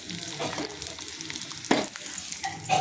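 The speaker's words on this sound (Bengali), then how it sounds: "এখানে ডাল ফোড়ন দেবো, পেঁয়াজটা ভাজা হয়ে গেছে" Onions sizzle and fry in a pan for tempering dal, a steady crackling hiss with a few stirring scrapes and clatters, close and clear with no talk.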